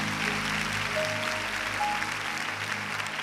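Church congregation clapping for the Lord during a Portuguese-language worship service, a steady dense patter of many hands filling the room, with a faint sustained tone or voice drifting over it.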